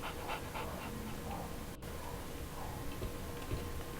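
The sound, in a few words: dog panting in Sherlock Holmes The Awakened video game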